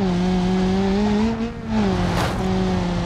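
A car in BeamNG.Drive runs at full throttle, its engine a loud, steady drone with a held pitch that dips briefly and then recovers and keeps going.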